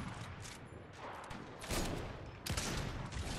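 Fortnite gunfire rattles in rapid bursts, loud and continuous, with heavier volleys hitting near the middle and end. No voices.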